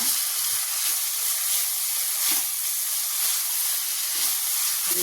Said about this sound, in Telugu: కొంచెం ఫ్రై చేసుకున్నా వెల్లుల్లి పేస్ట్ మగ్గిపోయింది